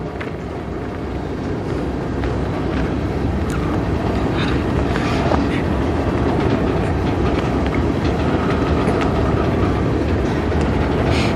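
A CN manifest freight train rolls by steadily in a rail yard at Strathroy with a constant rumble and rattling wheels, close and loud, with faint clanks and squeals over the noise.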